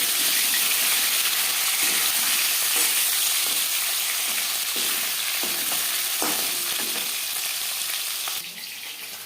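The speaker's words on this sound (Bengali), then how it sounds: "একটা সাইড ভাজা হয়ে গেলে অপর সাইডটা উল্টে দেবো।" Pieces of fish fry in hot oil in a pan for a potato and cauliflower fish curry, giving a steady, close, dense sizzle with faint stirring clicks that drops off near the end.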